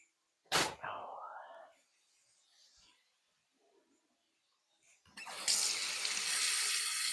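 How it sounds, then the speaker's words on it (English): Tap water runs into a kitchen sink as hands are washed, a sudden steady rush that starts late and keeps going, after a short earlier splash and a quiet gap. "wash my hands"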